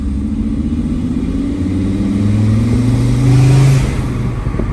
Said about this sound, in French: Quand l'échappement, il s'ouvre comme une Gallardo, incroyable.